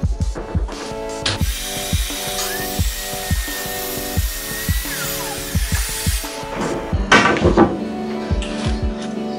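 A cheap Excel 1200 W plunge track saw cuts plywood while a Henry vacuum runs steadily underneath, a continuous whining roar punctuated by regular rhythmic thumps close to the microphone.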